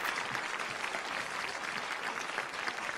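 Studio audience applause for the celebrity contestants of a TV cooking competition, a continuous, even wash of clapping with no voices.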